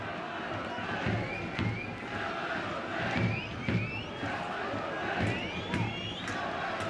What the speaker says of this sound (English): The song sung, Red and White Army, trying to urge their team on.